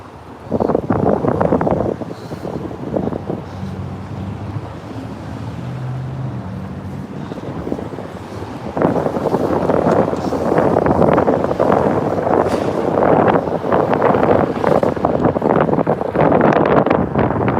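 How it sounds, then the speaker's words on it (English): Strong wind buffets outdoors in Yakima, Washington, a loud continuous roar and rumble with gusts swelling across the whole stretch, no talk heard. "this wind has made the margin of difficulty for this job at least 10 times harder"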